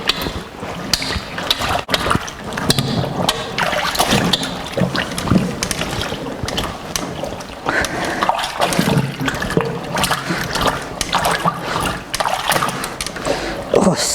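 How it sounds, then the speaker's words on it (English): Victorian laundry punched and twisted by hand in a tub of soapy washing water, giving continuous sloshing, splashing and dripping close by, with speech throughout. "You punch the washing twist and twist and twist to get all the dirt out."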